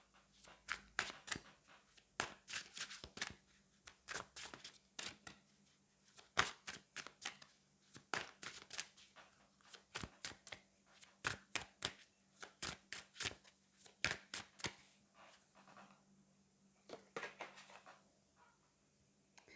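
Tarot cards shuffled and drawn by hand, a steady series of soft riffling snaps and flicks at a close, quiet level with no talking.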